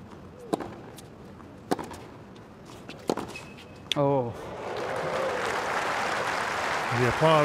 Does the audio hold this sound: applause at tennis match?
yes